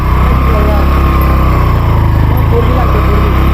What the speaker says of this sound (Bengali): নাইম আমার বাইক তো পাচ্ছে না